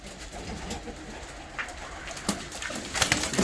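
Show pigeons of a rare breed cooing at close range, a soft steady murmur of calls with a few sharper bursts and rustles toward the end.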